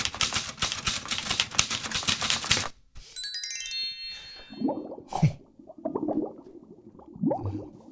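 Rapid mechanical typewriter key clatter for nearly three seconds, then a bright bell ding and a few chiming tinkles, followed by softer squishy and clanking effects.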